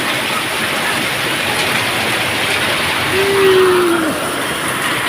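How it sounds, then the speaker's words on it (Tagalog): Steady heavy rain roars evenly throughout, a dense hiss with a faint tonal whine briefly rising near the end. "dahil sa lakas po ng ulan ngayon"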